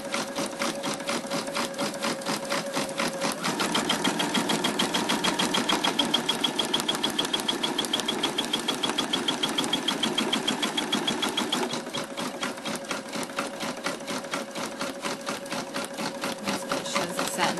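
A sewing machine runs a close satin stitch along the raw edge of a fabric appliqué, a steady rapid needle rattle close by with a short pause partway through, otherwise alone.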